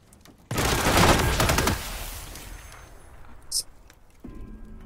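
A sudden loud burst of rapid video-game gunfire lasts about a second, then tails off into fainter shots and a voice talking.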